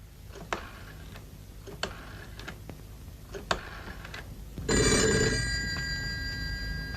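A telephone rings in a single loud burst after a stretch of soft ticking and faint clicks, then fades into a lingering hum. The scene is a 1987 Indonesian comedy film, and no one speaks.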